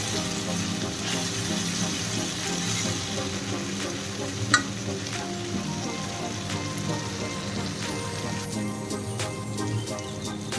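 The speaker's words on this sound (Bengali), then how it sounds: "আদাটা ভাজা হয়েছে তেল ছাড়তে শুরু করে দিয়েছে মশলার থেকে" Ginger spice paste fries in oil for a Bengali fish roe curry, giving a steady, close sizzle with stirring throughout and one sharp click near the middle.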